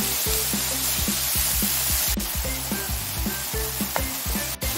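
Bracken fern greens stir-fry in a pan with a constant loud sizzle over a rhythmic low pulsing drone, with occasional spatula scrapes.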